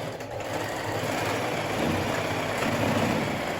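A sewing machine stitches elastic, running steadily, its fast mechanical whir continuing without pause for a few seconds, close and fairly loud.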